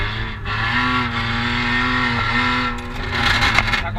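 A BMW M3 E46 cornering hard on a track, its engine note holding and shifting pitch through the turn, loud and close, with tire noise and a rising rev toward the end.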